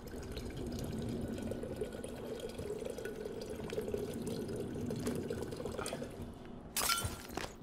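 Water running from a tap in the video game Prey, a continuous rushing splash at moderate loudness with a brief clattering burst near the end.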